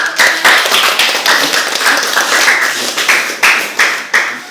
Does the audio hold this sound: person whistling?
no